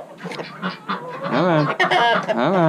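Ducks and turkeys on a farm call out in a burst of loud, close honking and gobbling squawks, overlapping and rising in intensity, with no one talking.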